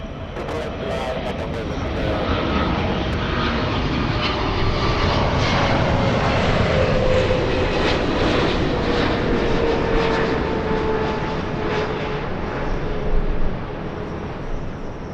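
A jet airliner takes off from runway 24 left at Los Angeles LAX, its engines a loud, steady broadband roar that swells and holds throughout, with faint radio-like voices in the background.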